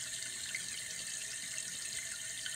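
Water hisses steadily into a toilet tank as it refills, a faint, even rush with no talking.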